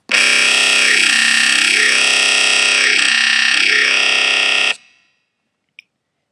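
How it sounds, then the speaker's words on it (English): A loud, buzzy distorted dubstep vowel bass made in the Massive synth holds one note while its tone sweeps between vowel-like shapes, then cuts off into silence with one tiny click. "Now when you move the knob and play a note at the same time, you will hear the vowel sounds come through."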